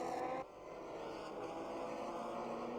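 Porsche sports car racing at the 2000 Nürburgring ALMS round, its engine a loud, steady onboard roar that dips briefly early on, then holds a sustained high-revving drone throughout.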